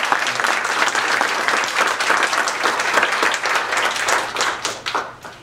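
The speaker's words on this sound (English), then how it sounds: "Let us thank both candidates with our applause." An audience at a candidates' forum for Assembly District 55 in Neenah applauds the two candidates, brisk close clapping holding steady before thinning and tapering off at the end.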